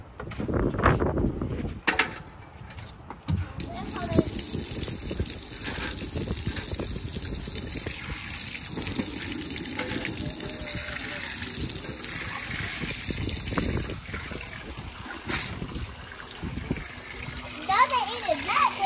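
Water pours and trickles into a pet's water bowl, a steady splashing stream heard close up, with voices speaking over it.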